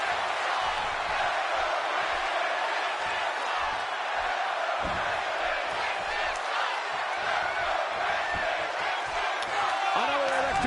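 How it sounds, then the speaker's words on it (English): Arena crowd noise in the WWE 2K17 wrestling game during a SmackDown show, a dense continuous roar of cheering at steady level throughout. "Another electric crowd on hand here for SmackDown"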